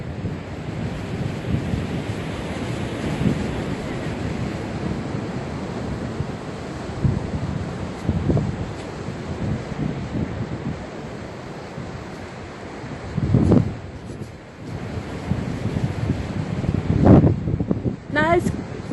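Strong wind buffets the open jetty at Coffs Harbour, a steady roar with gusty surges and surf underneath that swells louder toward the end.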